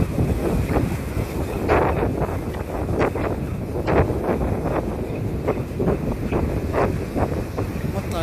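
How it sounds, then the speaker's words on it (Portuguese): Strong, relentless wind buffets the microphone on a beach during mullet fishing, a loud continuous roar with gusty rumbling and rough surf underneath. "Pessoal, ai, vento que não dá trégua."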